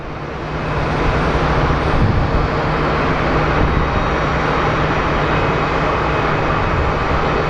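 A Southwest airliner arrives at Sky Harbor International Airport in Phoenix from Nashville, its engines a steady, loud roar that swells over the first second and then holds broad and constant with no talk.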